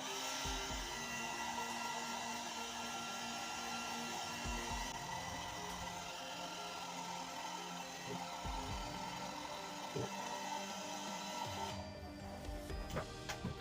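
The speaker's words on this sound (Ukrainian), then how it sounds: "зараз просушу феном" A hair dryer blows steadily and loudly from start to finish, a constant whooshing roar with a faint motor whine, no talking.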